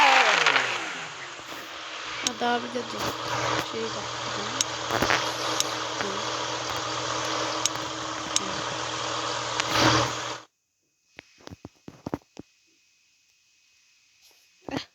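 A car engine in the Car Parking video game, taxi driving on tropical islands, hums steadily at a constant drone with small revs for about ten seconds, then cuts out, leaving scattered clicks and a brief murmured voice.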